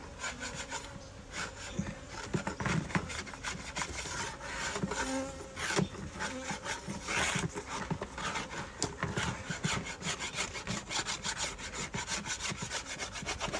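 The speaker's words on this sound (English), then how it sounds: "this lid has a little bit of mildew on it that I'm going to scrape off" Mildew being scraped off a wooden beehive lid outdoors in front of a hive entrance: a steady, continuous rasping scrape with repeated strokes, close and fairly loud, with faint buzzing of bees around it and no talk.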